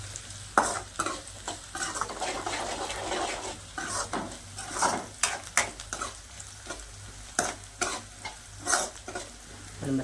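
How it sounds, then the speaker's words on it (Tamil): Garlic and two green chillies sauté in a pan for dried vanjiram fish thokku, soft sizzling under repeated scraping and stirring strokes of a spoon against the pan, close and fairly quiet. "அதையும் சேர்த்து நல்லா வதக்கி விட்டுடலாங்க."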